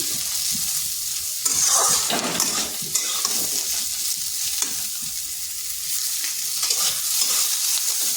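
Salted ivy gourd (kundri) fries in oil in a kadai with a steady, close sizzle, broken by scraping stirs and the occasional clink of the spatula.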